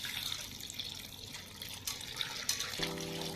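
Water poured from a bowl into a cooking pot of bathua lentil dal, a soft continuous splashing pour with a few brighter splashes, ending as a steady tone rises beneath it.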